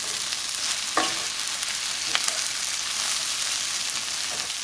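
Scrambled eggs frying in a pan while being gently mixed, a steady sizzle under a few soft scrapes of the utensil against the pan, with no talking.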